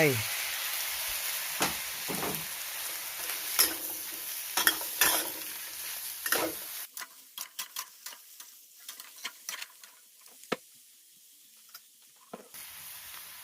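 Instant Mama noodles and vegetables are stir-fried in a pan, first with a loud, constant sizzle, then quieter frying broken by sharp clicks and scrapes of a utensil stirring against the pan.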